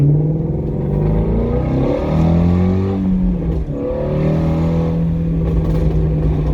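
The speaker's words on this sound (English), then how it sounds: "the exhaust sounds way better" A car engine drones and revs continuously, a deep throaty exhaust rising and falling in pitch as it accelerates, loud and close.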